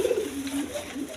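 Red pigeons of a large breed coo close by, a short low throaty warble rising and falling, with no voices over it.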